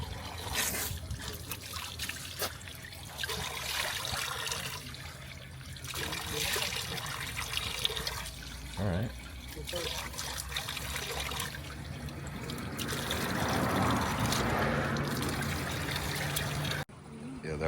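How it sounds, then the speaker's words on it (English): Fresh spring water trickles and splashes steadily from a spout on the road between Georgia and Armenia, with a person briefly speaking and other voices and movement around it. "And they've got some fresh water. Look at this."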